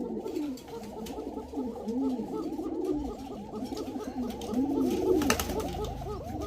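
A female Arabian cocka pigeon calls in rapid repeated cooing bursts, a steady rhythmic stream of close, clear calls with overlapping coos from other pigeons at a bird market.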